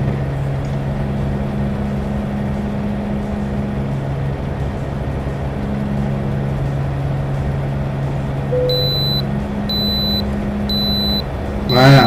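Repeated high electronic beeps, three short bursts in steady rhythm, over the constant low engine drone of a truck in American Truck Simulator.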